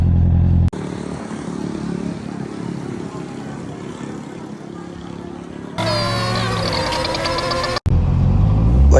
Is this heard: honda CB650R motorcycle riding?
yes